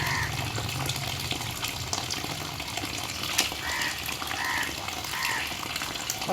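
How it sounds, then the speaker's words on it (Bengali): A fish being rinsed under running water, a continuous close gushing splash with rough, shifting texture throughout and no speech. "মাছটা ধুয়ে নি মাছটা ধুয়ে"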